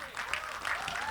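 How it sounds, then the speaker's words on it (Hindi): Brief burst of audience applause at a film trailer launch event, a dense, even patter of many hands with a faint voice in the background. "एक बार जोरदार तालियां हो जाए, come on."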